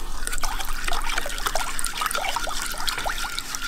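Sea salt being stirred into a bowl of freshly boiled hot water, giving close, continuous liquid swishing and trickling with small splashy ticks throughout, no talking.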